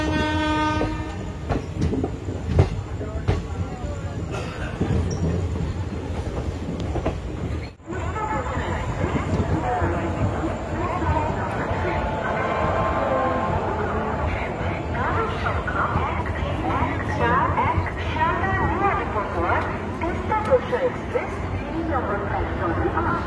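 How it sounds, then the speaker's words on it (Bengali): The Teesta Torsa Express pulls out from Khagraghat Road, its horn sounding early before a steady rumble and clatter of wheels on rails fills the rest, loud and continuous. "ট্রেন ছেড়ে দিল বন্ধুরা খাগড়াঘাট রোড থেকেও"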